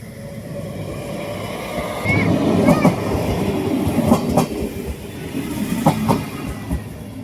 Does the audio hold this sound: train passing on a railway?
yes